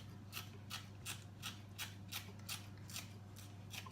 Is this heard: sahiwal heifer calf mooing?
no